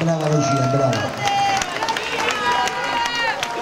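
Audience at a San Nicola folk festival in Maglie applauding a singer, a dense burst of clapping and crowd noise with a voice calling out over it.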